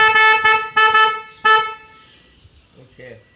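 A high, piercing snail-style horn on a Toyota Yaris blasts four times in quick succession, followed by quiet background and faint voices.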